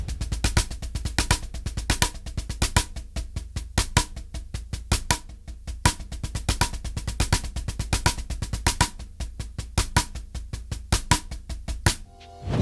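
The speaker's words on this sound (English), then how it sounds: "If we were to do that with the 6-stroke roll," Snare drum working through a six-stroke roll rudiment, first in triplet feel then as 16th notes, a dense steady stream of crisp close strokes with no voices.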